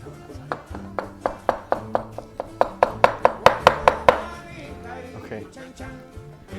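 A knife chops cooked lamb for birria tacos on a cutting board, a steady run of sharp, close thuds that quickens and grows louder before stopping, with some background sound between strokes.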